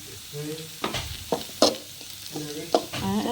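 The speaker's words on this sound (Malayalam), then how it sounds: "ബ്രൗൺ കളർ ആയിട്ടുണ്ട് പൊടികളിട്ട് മിക്സ് ചെയ്യണം" Spice powders being stirred into browned vegetables frying in a pan for a kootukari, an Onam sadya curry, with sizzling under several sharp spoon scrapes and knocks against the pan, close by.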